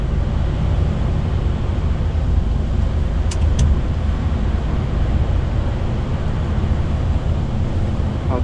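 A DAF truck accelerates on a snow-covered German road, with a continuous heavy engine rumble and road roar from inside the cab, steady and loud throughout, with a couple of brief high clicks.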